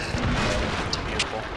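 Tank cannon fire during a World of Tanks clan wars battle: booming, dense low rumble across the whole moment, with a couple of brief sharper cracks near the end and voices talking over the mix.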